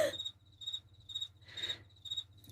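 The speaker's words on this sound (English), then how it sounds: "Except for those darn crickets." Crickets chirp in a quiet indoor room, a steady high pulsing trill repeating in regular bursts, faint and alone with no talk.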